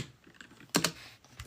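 Typing on a computer keyboard, a handful of light key taps followed by two sharp, louder clacks in quick succession, close and clear with no talking.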